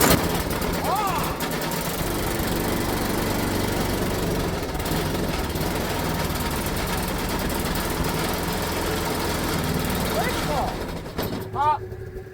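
A snowblower engine on full choke catching on the second pull in cold Minnesota snow, a loud steady mechanical drone running close and continuously before it sputters near the end, with a few voice sounds mixed in.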